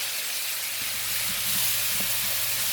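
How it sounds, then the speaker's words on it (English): Mushrooms caramelizing in rendering beef fat for a pho-style soup: a loud, steady, close frying hiss throughout, with a few soft knocks underneath. "I'm gonna just let this right here caramelize in the beef fat, and then all this gonna just render"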